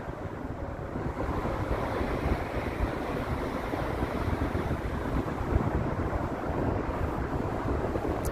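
Steady wind buffets the microphone outdoors on a Toronto lakeshore, a continuous rushing roar with what sounds like water lapping underneath.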